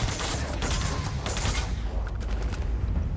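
Bursts of gunfire ring out during a space battle in the Starfield video game, rapid clustered shots and booms that are dense at first and then thin out to scattered impacts over a steady low rumble.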